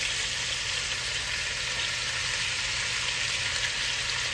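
Wagyu ground beef browns in a pot for a cowboy ground beef and veggie soup, a steady, dense sizzle that holds evenly throughout with a faint low hum beneath.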